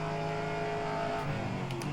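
Racing video game car under hard, mistimed braking, its engine droning steadily with a strained tonal whine and faint tire scrub, loud and continuous with no talk.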